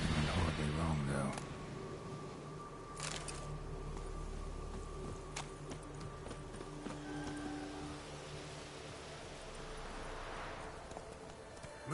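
Geralt's horse Roach galloping in The Witcher 3, a steady hoof rhythm running under constant game music and ambience, with a spoken voice near the start.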